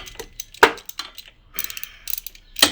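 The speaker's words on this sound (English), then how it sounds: "Tighten up this clamp so it holds the axle in place." A clamp holding the axle on a slingshot is tightened by hand, producing a series of sharp metallic ratcheting clicks and scrapes in irregular bursts, close and fairly loud with no talking.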